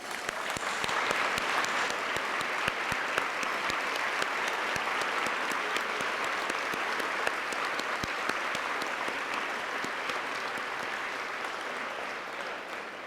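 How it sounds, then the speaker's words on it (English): At a Father of the Year awards luncheon, a room gives the event committee a long, sustained round of dense applause that stays full and even for over ten seconds before easing slightly. "let's give them a round of applause."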